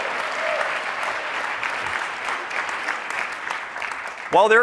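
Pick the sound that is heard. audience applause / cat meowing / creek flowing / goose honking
audience applause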